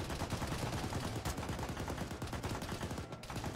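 In the ShackTac military video game, a .50 cal machine gun fires in sustained bursts, a dense, loud rattle of gunfire filling the whole stretch without pause and with no voices over it.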